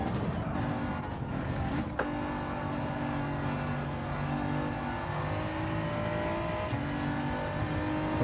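BMW race car engine in a racing video game revving and shifting through gears, a loud continuous whine with rising and falling pitch and brief tire noise, no talk.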